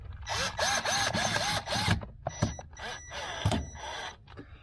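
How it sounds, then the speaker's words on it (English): A small power drill whirs in several short bursts, then stops and starts again in brief pulses as a self-tapping sheet metal screw is driven into a 2015 Mini Cooper, loud and close. "It's like a sheet metal screw with our little zippy drill here, and we will screw that in this location."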